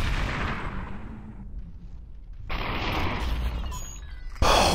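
A shotgun in the VR game Superhot VR fires a few sharp, loud blasts, each followed by a brief decaying rumble, with a last abrupt crack near the end.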